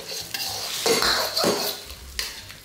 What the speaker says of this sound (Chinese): 现在可以把辅料和肉都一起加进来，翻炒均匀